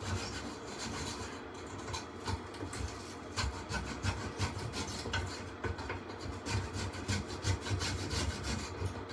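Brush scrubbing the fins of an air conditioner coil during a maintenance visit, a dense continuous scratchy rubbing with rapid back-and-forth strokes, steady and close, with no talking.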